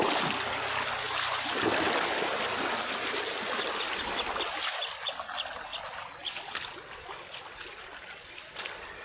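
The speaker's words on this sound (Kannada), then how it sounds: "ಸಿಕ್ಕಾಪಟ್ಟೆ ಜೋರು ಅದ ರೀ ಫ್ರೆಂಡ್ಸ್. ನೀರಿಲ್ಲಿ ಓಟದ" Fast-flowing water surging past, a dense, close rushing hiss that eases slightly midway, with occasional small splashes and drips; no talking.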